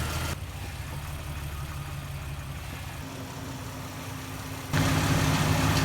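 Rebuilt Jeep engine idling at a steady low rumble, close by, rising slightly louder near the end, with no talk.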